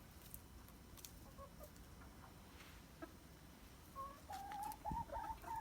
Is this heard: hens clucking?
yes